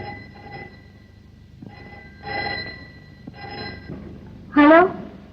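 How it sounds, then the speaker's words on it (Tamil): A telephone rings in a few faint, repeated bursts against a quiet background, followed near the end by a louder, brief tonal sound. "பாம்பேல இருந்து ஃபோன் கால்."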